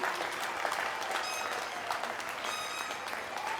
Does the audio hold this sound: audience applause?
yes